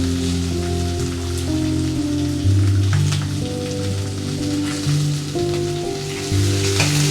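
Onions, green chilies and curry leaves fry in hot oil for rasam, making a continuous crackling sizzle under steady background music, with no one speaking.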